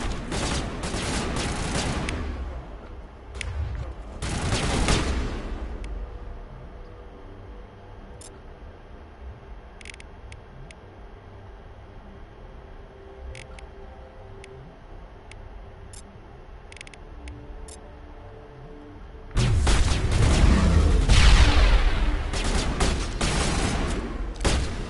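Gunfire from a gun in Mass Effect comes in loud rapid bursts, a few seconds at the start and a longer volley near the end, separated by quieter stretches with scattered clicks.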